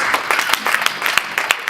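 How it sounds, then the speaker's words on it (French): Applause from a church congregation greeting a shepherd who stands at an evening service: a steady run of hand claps with sharper individual claps popping through, sustained across the whole stretch. "Nous allons le recevoir par des acclamations."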